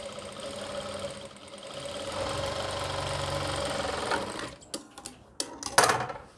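Sewing machine stitching an Islamic cap runs in a steady continuous hum for about four seconds, then breaks into short separate bursts and stops as the fabric is adjusted.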